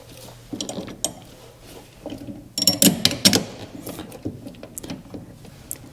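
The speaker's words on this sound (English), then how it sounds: "I can put these two bolts in here to hold the master cylinder to the firewall" Metal clicks and ratcheting as bolts are driven in to fasten a Wilwood dual bowl master cylinder to a car firewall, a burst of tight mechanical clatter in the middle among scattered taps and handling noises.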